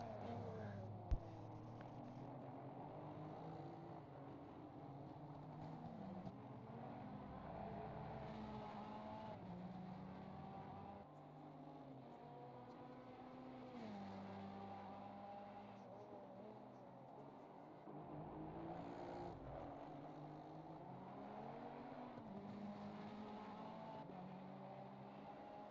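A Ferrari race car in a racing video game roars around the Spa circuit, its engine note rising and falling steadily through gear changes over about twenty-five seconds, loud and continuous with no talking.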